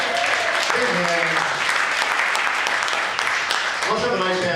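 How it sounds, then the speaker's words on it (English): A comedy club crowd in Tucson claps loudly and steadily, while a voice talks over the applause at the start and again near the end. "Give yourselves a big hand tonight, everybody."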